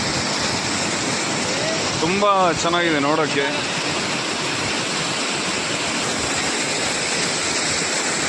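Vibhuti waterfall pouring with heavy pressure, a loud dense roar of rushing water filling the whole scene as a voice speaks briefly over it.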